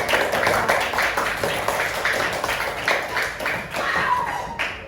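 A classroom group of students clapping hands together as applause, a dense, steady patter of many overlapping claps at moderate loudness, with no talking.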